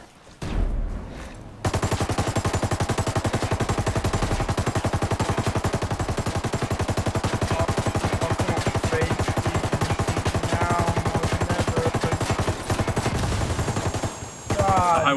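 Rapid automatic gunfire from the Ghost Recon Wildlands video game rattles in a long, dense, evenly paced burst for most of the clip, loud and close, after a short quieter lead-in and with a brief gap near the end.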